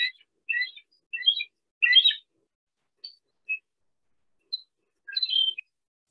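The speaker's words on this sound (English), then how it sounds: "So it's just a little peep, not what you would think a mighty bird would have." Bald eagle giving thin, high peeping calls in a series of short bursts, several single peeps and chittering clusters spaced across a quiet background, clear and fairly close.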